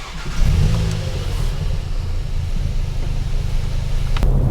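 A car engine catches after a brief start-up surge, then settles into a steady, close, medium-pitched running drone as it warms up to temperature before data logging.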